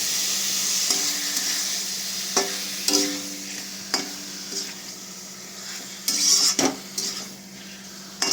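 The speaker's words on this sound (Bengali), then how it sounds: "ভালো করে পেঁয়াজের সাথে আমি চিকেনটা মিক্স করে নেবো" Chicken pieces being stirred with onions in a hot pan, a steady sizzle of frying running underneath as a spoon scrapes and clatters against the metal in irregular strokes, close and moderately loud, with no talking.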